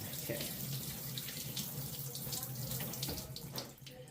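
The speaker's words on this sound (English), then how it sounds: "I guess I'll rinse it a little bit" Tap water runs steadily into a sink as chicken giblets are rinsed, a continuous close splashing flow that eases off at the end.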